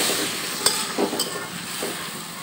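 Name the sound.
stirring fried spices with salt and green chilli in pan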